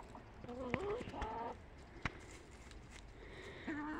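Chickens in a backyard flock cluck and squawk nearby in short, scattered bursts, with a few higher rising calls among quieter rustling, fairly faint overall and with no talk.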